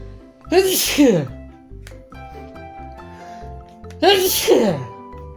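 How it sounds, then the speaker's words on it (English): A person sneezes twice, a few seconds apart, each a sharp, loud burst close to the microphone, with quieter movement and handling sounds between them. "I gotta sneeze."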